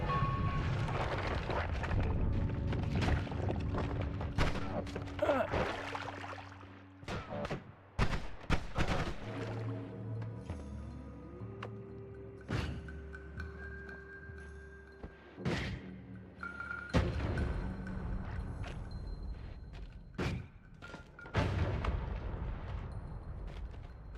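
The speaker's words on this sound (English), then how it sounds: "There's so many exploding things and I don't understand." Video game explosions in Noita: repeated booms and crackling blasts in dense, overlapping bursts, loud at times and fading into lighter pops and tones, with no voices.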